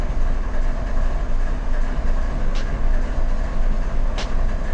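A CSX coal train pulls out in the Run 8 Train Simulator game, its loud, steady rumble and rolling wagon noise filling the scene, with two sharp clanks or squeals cutting through.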